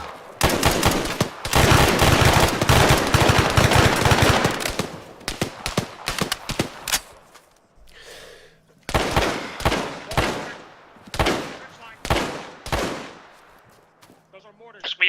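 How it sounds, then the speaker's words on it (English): Mortar and gunfire boom and crack in the military shooter ArmA 3, with a dense barrage of loud blasts up front, then spaced, separate heavy impacts echoing out, with a few brief voices mixed in. "We have mortars on the northeast side."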